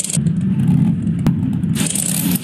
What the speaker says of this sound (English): I hear a zombie monster truck in the distance.